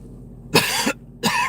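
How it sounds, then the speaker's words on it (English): Two harsh asthma coughs, close and loud, separated by a short pause. "I got this asthma cough"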